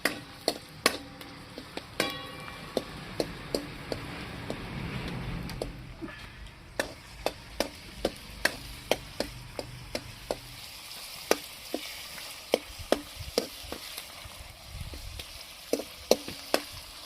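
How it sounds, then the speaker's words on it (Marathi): Onion fries lightly in hot oil for dhaba-style kaleji; a soft sizzle sits under frequent sharp spatula taps and scrapes against the pan. "कांदा हलकासा भाजून घेऊ आपण."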